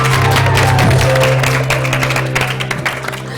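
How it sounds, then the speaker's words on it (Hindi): Studio audience applause on a morning TV show, a dense burst of clapping from a crowd, loud at first then thinning into scattered claps over a steady musical hum. "तालियां"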